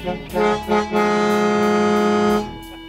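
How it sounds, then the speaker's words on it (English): Air horns on a show car at a car show blare loud and brassy in two short bursts, then hold one long sustained chord for about a second and a half before cutting off. "It's got a siren on it, and it's got air horns."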